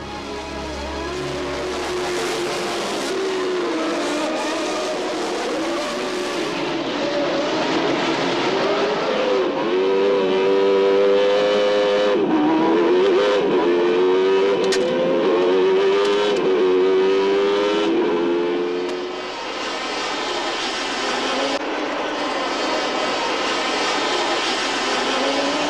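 Formula 1 hybrid-engine race cars at a Grand Prix start, a loud, dense roar of many engines revving and accelerating together, with rising and falling whines that ease slightly toward the end.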